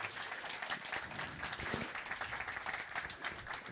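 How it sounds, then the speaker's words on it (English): A conference audience applauds a speaker welcomed on stage, a dense patter of clapping from a modest crowd lasting a few seconds. "I suggest that we start by giving you a big applause."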